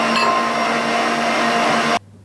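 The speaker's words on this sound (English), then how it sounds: "And again, one last quick mix." An electric mixer whirs steadily and loudly through lemon, raspberry and poppy seed muffin batter for a quick final mix, then cuts off abruptly near the end.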